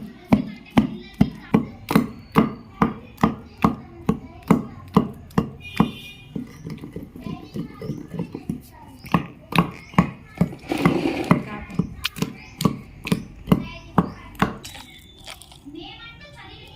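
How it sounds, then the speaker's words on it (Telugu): Gongura chutney with salt is pounded in a stone mortar, giving a steady series of sharp, loud thuds about two per second. The rhythm briefly loosens midway while a voice speaks, then the regular strikes resume. "మనం నీట్గా దంచుకోవాలి మొత్తం కూడా"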